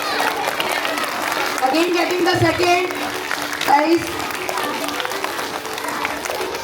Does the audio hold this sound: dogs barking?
no